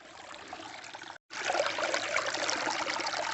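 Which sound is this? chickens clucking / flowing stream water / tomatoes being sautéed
flowing stream water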